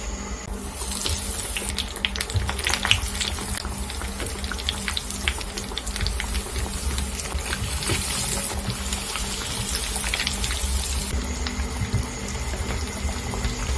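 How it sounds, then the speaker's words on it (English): Potato bites frying in hot oil, a dense, steady crackling hiss that runs loud and close for the whole stretch with no pauses and no voices. "So all I'm going to do is to fry them to golden brown"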